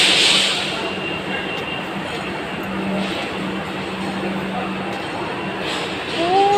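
A Vande Bharat train sits at a station platform, giving a steady low hum with broad crowd and platform noise, faint scattered clatter and brief high squeals near the end.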